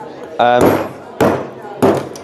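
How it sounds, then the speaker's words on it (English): A big apple wood mallet drives a chisel into a stone block, dressing it with three sharp, loud knocks at uneven intervals, each followed by a short ring-out, after a brief voice at the start. "Your hammer and chisel. So your big mallet here, that would tend to be made out of apple wood."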